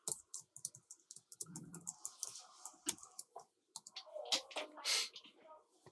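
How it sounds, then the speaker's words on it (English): Rapid clicking keystrokes on a computer keyboard rattle in a dense, uneven stream. The typing is close and fairly quiet, with a few louder taps mixed in. "I need to hide my keyboard from camera so I don't type my passwords."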